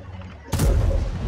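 A tank cannon fires in the World of Tanks video game, one heavy boom that cuts in sharply and leaves a rumbling tail over a quiet background.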